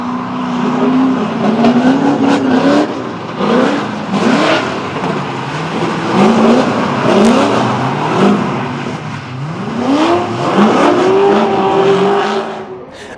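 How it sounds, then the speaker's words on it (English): A Phoenix Nissan S14 and a Club Auto FC Mazda RX-7 drift in tandem at Pukekohe during a D1NZ round, with loud engines rising and falling in repeated rev swoops and bursts of tyre squeal. "The Phoenix S14 closing in on the Club Auto FC RX-7 to take victory into the final 4."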